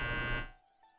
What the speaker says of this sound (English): That's my alarm for my dryer